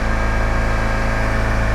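A car engine held at a steady 3000 RPM while stuck in traffic with the engine overheating and the A/C not working, giving a constant, even drone with no talk over it.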